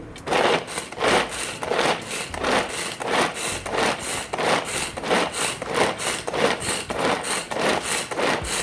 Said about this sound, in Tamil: இப்போது இதை பிடிச்சி இழுத்தோன்னே ஆனியன் கட் ஆகும்